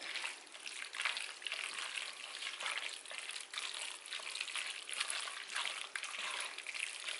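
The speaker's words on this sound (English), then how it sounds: "So we're going to stir this up." Bow tie pasta being stirred through a cheese sauce, a continuous wet, squelchy churning with soft irregular pulses, fairly quiet and close.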